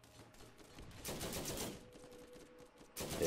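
Turret gunfire in the shooter game Borderlands, heard as quiet, rapid bursts of shots that swell and fade across a few seconds, with no talk.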